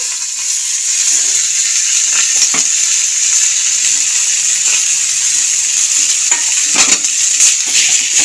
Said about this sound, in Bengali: এবার এই গ্রেট করা ফুলকপি আর টমেটো আর তার সাথে শুকনো লঙ্কা সব দিয়ে দেবো কড়াইয়ের মধ্যে